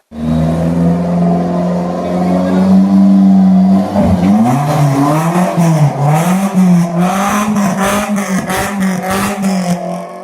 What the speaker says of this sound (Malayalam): ഘോര ശബ്ദം മുഴക്കി നഗരത്തിൽ ചീറിപ്പാഞ്ഞ കാർ.